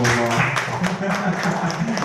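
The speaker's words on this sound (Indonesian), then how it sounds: "tepuk tangan dulu" Teachers in a classroom or meeting room clapping together, a short burst of applause with talk running underneath it.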